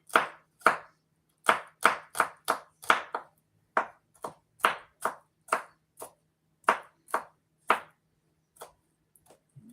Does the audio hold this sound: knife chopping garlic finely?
yes